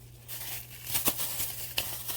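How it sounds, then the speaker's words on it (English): Quiet plastic bag crinkling while a small jewelry supply order is packed with a free gift, a few soft rustles and sharper crackles over a low steady hum. "put it in a plastic bag with the free gift"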